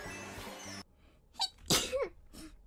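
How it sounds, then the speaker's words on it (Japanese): A single sharp sneeze bursts out alone after a stretch of music cuts off, preceded and followed by short breathy vocal sounds close to the microphone. "あ、くしゃみでそう。"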